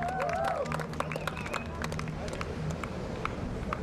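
Spectators at a Futures tennis third-place match in Sveti Vlas applaud the players, with moderate, steady clapping spread through the stands while an announcer's voice and crowd murmur carry over it.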